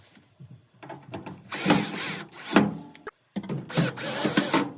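Screws being taken out of the heater assembly of an LG dryer with a power driver, heard as several short whirring bursts separated by brief pauses.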